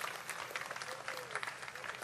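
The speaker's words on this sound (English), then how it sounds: "Give a big round of applause, ladies and gentlemen." Audience applause at an award ceremony honoring a Times of India Lifetime Achievement Award recipient, steady dense clapping held at a moderate level throughout with a faint murmur of voices.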